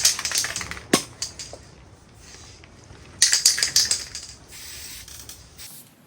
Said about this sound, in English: Right, now I'm going to go in with a bit of black.